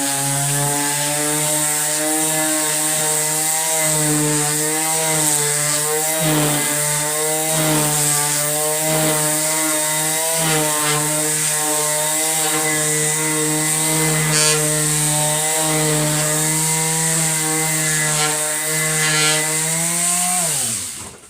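A power sander drones loudly and continuously against a wooden deck, its steady high whine wavering slightly in pitch before cutting off at the end.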